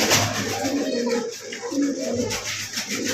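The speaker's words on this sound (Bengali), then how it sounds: "দেখতে পাচ্ছেন স্ক্রিনে একদম এ গ্রেডের টপ কোয়ালিটির একজোড়া কবুতর, হাইফ্লায়ার ইন্ডিয়ান বাবরা বলা হয়, এটা বাবরা কবুতর" A pair of Indian Babra high-flyer pigeons coo in soft, repeated, throaty murmurs up close, with faint background rustling.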